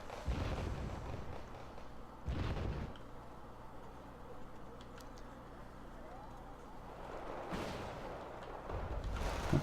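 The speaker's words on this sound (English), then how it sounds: "Stormers are taking mortar fire." Mortar rounds land in the Wargame Red Dragon battle: a few heavy, booming impacts at the start, again near two seconds and again near the end, over a steady low rumble of the battlefield.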